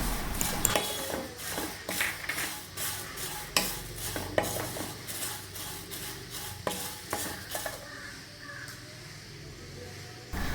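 Flattened rice and semolina scraped and stirred while roasting in a pan, with repeated scratchy clinks of a spoon against metal and a soft sizzle underneath, close and steady.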